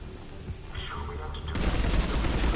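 A gun firing in the sci-fi shooter Mass Effect 3, a quiet stretch then a sudden dense burst of rapid shots in the last second, loud and near, with someone talking early on.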